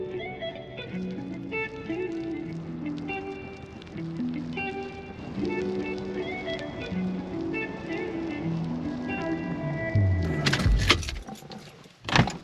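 Rain falls steadily on a campsite in Lovell Canyon, a soft patter under a tonal background, ending with a louder rustling knock or door-like thump near the close.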